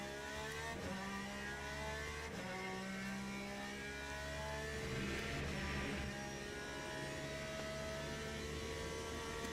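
A GTE race car engine in Le Mans Ultimate revs hard and steadily for the whole stretch, with rising and falling pitch sweeps through gear changes, loud and continuous, with no voices.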